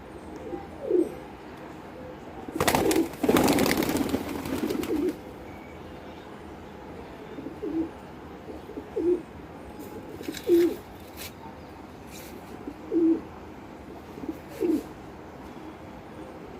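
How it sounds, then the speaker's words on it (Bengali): Pigeons coo repeatedly while being fed at home, soft throaty calls recurring every second or two at moderate distance, with a brief rush of wing flapping or rustling early on. "খুবই ভালো লাগে এইভাবে পায়রাদেরকে খাওয়াতে"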